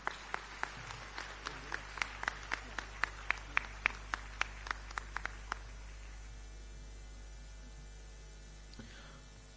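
Audience at a school annual day performance greets the chief guest with applause, heard as a faint, sparse series of individual claps in a slow rhythm that thins out and stops, leaving a low steady hum.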